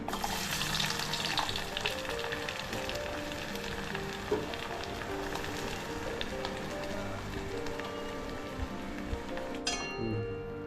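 Garlic sizzles and fries steadily in a hot pan while cooking a prawn pickle dish, a continuous crackling hiss heard up close with no talking, lasting the whole stretch.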